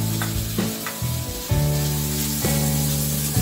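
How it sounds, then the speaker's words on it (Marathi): Finely chopped tomato sizzles loudly as it fries in a pan for chakolya, a steady hiss broken by a few stirring scrapes that renew the crackle. "आता हे भाजून झाल्यानंतर यामध्ये टोमॅटो टाकायचं आहे बारीक चिरलेलं"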